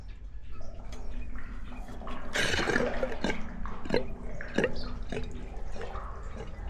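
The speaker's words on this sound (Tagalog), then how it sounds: "pag tinanggal ko tong pressure gauge, lalakas na naman yung labas ng tubig yan" Water runs out of a stainless steel tank after its pressure gauge is removed, a close, steady splash broken by sharp drips and small spatters throughout.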